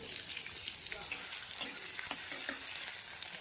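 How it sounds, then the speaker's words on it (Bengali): Sliced onions sizzle and crackle in mustard oil in a kadai, with a steady close frying hiss and occasional stirring scrapes. "কড়াইয়ের মধ্যে দিয়ে দিচ্ছি সর্ষের তেল তেলের মধ্যে কেটে রাখা পেঁয়াজগুলিকে দিয়ে দিচ্ছি"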